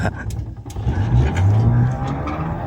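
A self-charging electric trike strains up a steep, winding road, giving a steady low motor drone and whine that holds loud and close throughout, with a rougher surge partway through.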